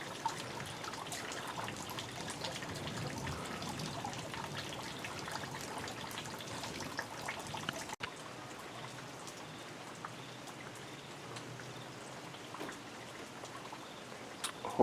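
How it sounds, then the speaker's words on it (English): Steady rain patters and drips on surfaces during an evening thunderstorm in Prescott, Arizona, a dense, even hiss that eases slightly partway through, with no voices. "the rain has subsided quite a bit"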